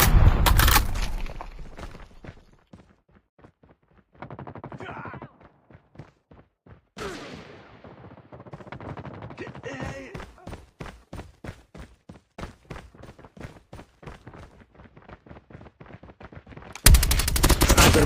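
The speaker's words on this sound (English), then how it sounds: "Sentry gun ready for deployment. Targets in sight." Automated sentry gun in a video game firing loud, rapid bursts, opening with a heavy volley, then a long run of evenly spaced repeated shots of varying strength, ending in another dense roar of fire.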